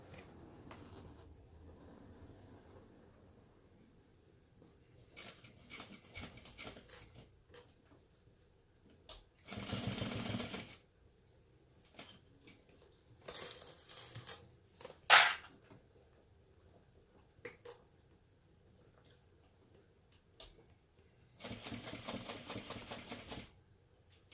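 A sewing machine stitches stretchy binding onto the curved edge of a fabric beauty bag. It runs in several short bursts that start and stop at close range, mixed with soft handling and clicking noises, and no one speaks.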